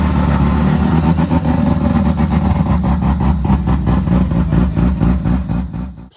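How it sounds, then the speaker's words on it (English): An obnoxiously loud, very fast car with a bridgeported 12A rotary engine revs hard and close, with a rough, rapidly pulsing exhaust that holds steady and then drops off abruptly at the end. "obnoxiously loud car."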